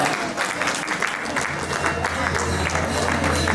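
A crowd applauds at a Rotary Club meeting indoors, a dense, steady burst of clapping heard at close range throughout.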